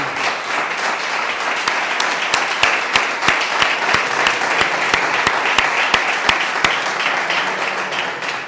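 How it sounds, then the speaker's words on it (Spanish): A crowd at a political candidacy presentation applauds steadily for a candidate, a dense wash of clapping with a sharp, rhythmic clap standing out regularly on top, sustained and close. "Antonio Rodríguez Bueno, para el que pido un fuerte aplauso."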